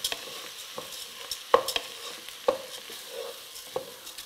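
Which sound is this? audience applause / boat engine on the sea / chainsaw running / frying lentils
frying lentils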